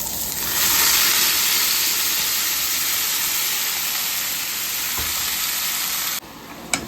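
Papaya pieces hit hot oil already holding dried chillies, bay leaf and cumin, setting off a loud, dense, continuous sizzle that holds steady for several seconds and then drops off abruptly.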